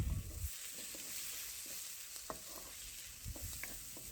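Chicken pieces fry and sizzle in a pan for a spicy chicken curry, with a steady sizzling hiss and several scraping stirs of a spoon through the meat, close and fairly quiet, no talking.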